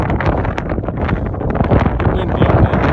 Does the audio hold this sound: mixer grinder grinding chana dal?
no